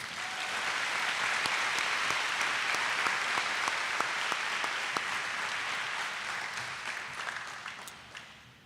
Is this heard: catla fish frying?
no